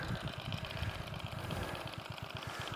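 A Ransomes Marquis cylinder lawn mower engine idles close by with an even, rapid low chugging pulse and a steady mechanical whir throughout.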